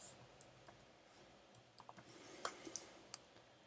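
Someone types a command on a computer keyboard with quiet, sparse key clicks in short irregular bursts against a near-silent background.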